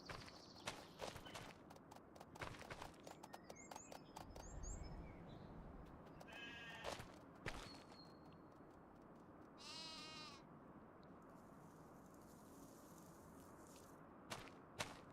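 A dog's footsteps in the Farming Simulator 25 video game sound like a horse's hooves, a quick run of hollow clip-clop taps over game ambience, with animal bleats and other scattered effects nearby.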